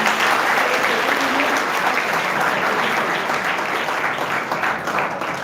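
An audience at a school award ceremony honoring commerce faculty toppers claps in sustained, dense applause, loud and continuous with no break.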